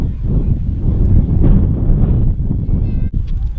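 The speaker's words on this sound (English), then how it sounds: "It's very, very windy, so hopefully you can hear me" Strong wind buffets the microphone in a steady, loud low roar for several seconds at the Dallas Zoo near the elephants, with faint animal calls barely audible behind it.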